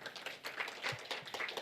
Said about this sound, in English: there was applause for you in the audience